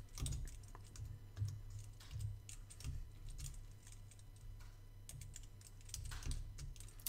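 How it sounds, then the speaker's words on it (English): Fingers tap out a list on a computer keyboard in quick irregular bursts with short pauses, close and fairly quiet over a low steady hum. "we're going to start typing in our list"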